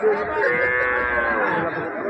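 Cattle low with a long, sustained moo at a busy livestock market in Karungalpalayam, Erode. The call is loud and close, with chatter from the crowd in the background.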